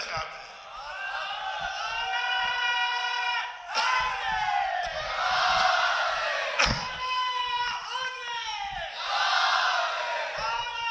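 A large crowd at a Shia majlis gathering in a Lucknow imambargah shouts the Nara-e-Haidari slogan, loud massed voices rising in repeated surging chants and cheers that swell and break several times.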